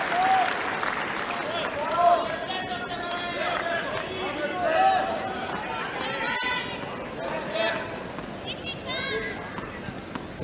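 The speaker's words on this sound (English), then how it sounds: "crowd getting involved." A tennis crowd at the Australian Open applauds in a rolling wave of clapping and murmured chatter, moderately loud and sustained, under a commentator's continuous radio talk.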